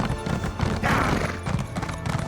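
Rapid clip-clop of horse hooves galloping in the video game Elder Scrolls Online, a close, rhythmic pounding that keeps up throughout, with a brief neigh-like burst partway through.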